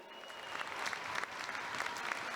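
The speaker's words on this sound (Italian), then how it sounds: "Voglio sentire un grande applauso di incitamento." A crowd at an ice skating show applauds steadily, a dense wash of clapping that swells slightly and continues throughout.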